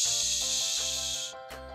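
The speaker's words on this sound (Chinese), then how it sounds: "我们来搅拌一下，会冒出更多的碳酸的" A carbonated Hello Kitty peach drink fizzes hard as it is stirred, giving a bright, steady hiss of bubbles. The hiss fades briefly near the end, then surges again.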